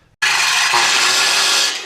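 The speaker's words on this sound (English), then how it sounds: "Cutting the headers, or the header." A power saw rips through a 2-by-8 wooden header in one loud, continuous cut lasting under two seconds, starting abruptly after a brief quiet moment and tapering off at the end.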